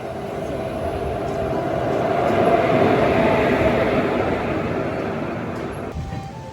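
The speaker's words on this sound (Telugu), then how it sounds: "ఇప్పుడు ఏదో బండి రెడీగా ఉంది, బయటకు వస్తుంది" Train pulling out of Thiruvananthapuram Central station, a single locomotive hauling coaches, a steady rolling rumble that swells and fades slightly as it passes near, with faint clatter over the tracks.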